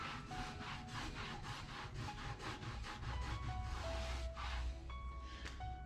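A rag scrubbing hard against the raw rubber of a tire sidewall, in steady rapid back-and-forth strokes that make a continuous close rasping, with no voices.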